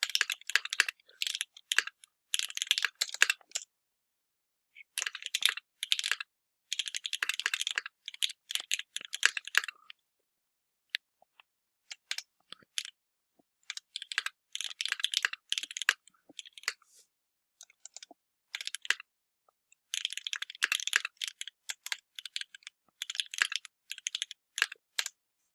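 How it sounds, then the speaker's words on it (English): Typing on a computer keyboard, with close, crisp key clicks in rapid bursts separated by short pauses, steady and alone with no speech. "I'll just type it out here"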